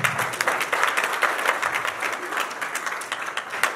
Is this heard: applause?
yes